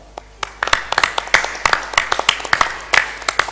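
Scattered applause from a crowd, sharp individual claps popping out over a steady patter, fairly close and moderately loud, without voices.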